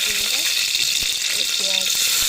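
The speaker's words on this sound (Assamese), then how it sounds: "অকণমান তেল মাৰিব লাগে গোটা জিৰা কেইটামান দিছোঁ" Whole cumin seeds crackle and sizzle in a small amount of hot oil, a steady close hiss with scattered pops and brief scraping stirs, no talk.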